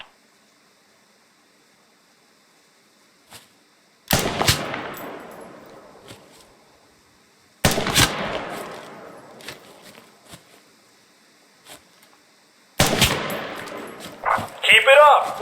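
Rubber-bullet gunfire during a military basic training exercise: three sharp, loud bursts, each followed by a decaying rumble, with scattered faint pops between them.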